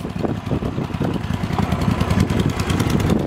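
A 1956 Cushman Eagle motorcycle fitted with a Vanguard V-twin engine idles nearby with a loping, uneven low rumble and irregular pulsing beats, steady and fairly loud.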